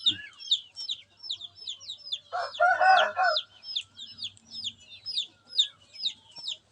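Chickens cluck nearby in an early-morning coop at watering time as rain approaches, over a constant chorus of high, rapid peeping, with one louder burst of clucking partway through.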